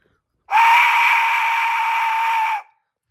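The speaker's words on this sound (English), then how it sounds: "I want to buy a more, like, just a better Aztec death whistle someday." Aztec death whistle blown once, a harsh shrieking scream-like tone that starts abruptly, holds steady for about two seconds and cuts off, loud and close in silence.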